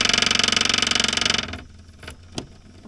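A Toyota Hilux engine runs with a fast, rhythmic, pulsing chug right after a new engine install, loud and near, then cuts out abruptly and leaves faint knocks and clunks.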